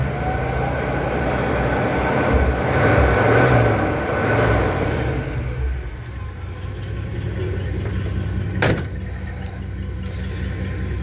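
A 1962 Chevy Impala engine runs loudly nearby, swelling to a revving roar early on before settling back to a lower rumble, with a sharp click-like burst near the end.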